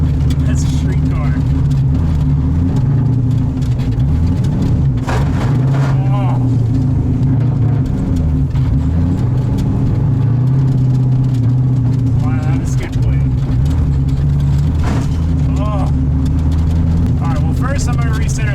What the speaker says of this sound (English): This car does drive pretty decent as a street car.